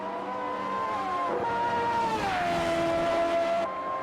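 Race cars scream past on a wet Brands Hatch circuit with high engine whines that shift pitch as they go by, loud and continuous.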